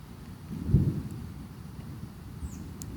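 A big summer thunderstorm in Coram, New York, with a low rumble of thunder swelling near the start and then fading into a steady wash of rain and wind, with no voices.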